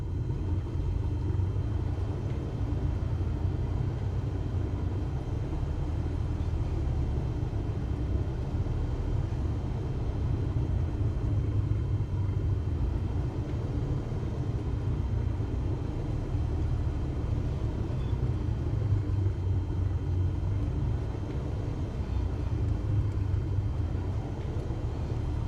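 An aircraft taxiing in the MSFS 2024 flight simulator game gives off a steady low engine rumble with little change throughout and no voices.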